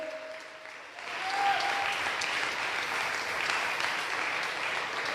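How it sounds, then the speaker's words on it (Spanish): A church congregation claps hands loudly after a brief tone at the start, forming a dense, steady wash of applause that fills the room. "Dale fuerte las palmas al Señor."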